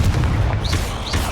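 A Confringo blast spell from Hogwarts Legacy exploding, a deep, loud booming burst with rumbling low end and short whooshing sweeps, dense and continuous across a brief moment.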